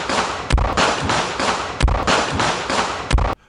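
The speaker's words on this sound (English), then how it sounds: "here is what a 9mm pistol sounds like when it is fired" Three sharp 9mm pistol shots ring out at roughly even intervals, each a loud, abrupt crack with a brief tail, set against a steady background rumble.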